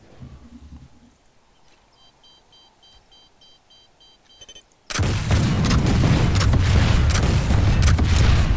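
Rocket launcher shots strike the side armor of a Vanguard tank in Planetside 2. A few quiet electronic beeps come first, then a sudden loud blast that settles into dense, sustained rumbling explosions.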